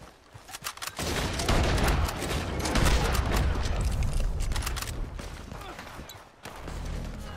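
Rapid bursts of automatic gunfire in a King of the Hill match, loud and dense for several seconds before tapering off into a brief lull.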